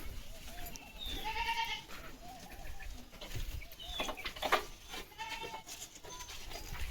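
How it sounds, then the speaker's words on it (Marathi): Goats of the Kota and Kathiawadi breeds bleat inside a goat-rearing shed, several calls rising at irregular intervals over a noisy background, with occasional bird or chicken sounds mixed in. "ही बघा, कोटा जातीची शेळी आहे, ही काठीवाडी आहे"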